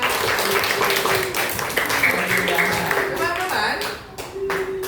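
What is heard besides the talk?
class clapping hands together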